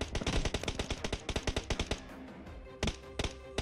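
Rapid automatic gunfire in PUBG Mobile, a fast string of sharp shots that stops, then a few short bursts follow after a brief pause.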